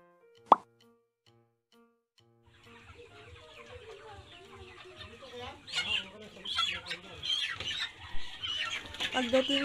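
Broiler chickens cluck in a steady, moderately near chorus after a single sharp plop near the start, with faint speech at times.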